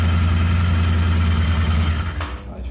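A Royal Enfield Interceptor motorcycle with a starting fault runs at a steady, loud idle close by, its low engine rumble continuous before tapering off near the end.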